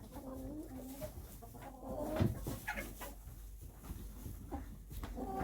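Backyard hens cluck softly and intermittently at close range in a coop, with low shuffling and rustling between calls and a person speaking quietly at times.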